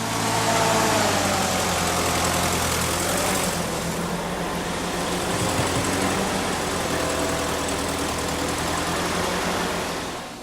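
A tanker truck's engine running steadily as it delivers 4,500 gallons of GemSeal pavement sealer, a loud, close, continuous diesel drone with a low hum, holding level for the whole stretch.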